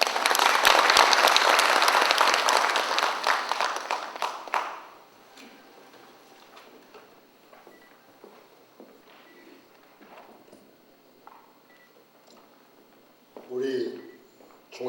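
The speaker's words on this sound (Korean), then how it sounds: "뜨거운 박수 부탁드립니다" Loud applause from an audience at a university labor union's 15th anniversary ceremony, a dense burst of clapping over the first few seconds that fades into quiet room noise, with a brief voice near the end.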